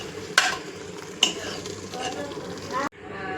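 Salted mutton tripe (vajdi) stirred in a pan, a steady scraping and sizzling with two sharp utensil knocks against the metal, close and fairly loud, ending abruptly.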